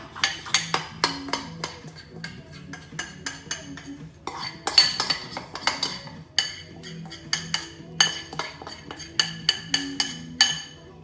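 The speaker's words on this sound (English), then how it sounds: "Mix in the melted Biscoff." A spoon mixes melted Biscoff spread in a bowl for Biscoff rocky road, with repeated clinks and scrapes against the bowl at an uneven, busy rhythm, close and clear.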